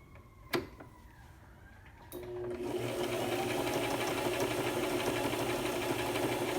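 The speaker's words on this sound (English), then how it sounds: "I'm going to show you how the sewing machine sews on its own." A sewing machine stitching fabric on its own with no hands guiding it, starting after a sharp click and then running as a steady, close, continuous mechanical whir with fast rhythmic ticking.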